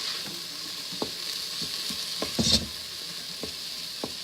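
Garlic and powdered garlic sizzle steadily in oil in an Instant Pot while a spoon stirs it, with soft scraping knocks at irregular intervals and a brief louder clatter midway, close up and with no talking.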